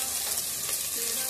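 Peanuts sizzle and crackle in hot oil in a home kitchen pan, a steady, bright frying hiss with small pops throughout and no talking.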